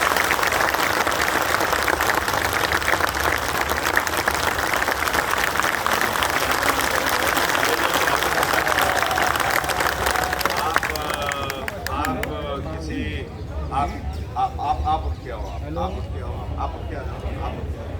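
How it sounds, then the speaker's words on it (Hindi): A crowd at a community gathering honouring a guest gives loud sustained applause and cheering for about eleven seconds, mixed with hubbub, then fades into talking voices and murmur. "जोरदार तालियां, सब जोरदार तालियां।"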